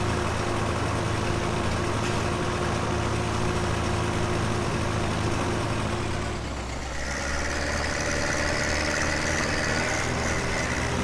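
A loud tractor engine in Farming Simulator 17 drones steadily and heavily, its low rumble continuous throughout with a slight shift in pitch midway.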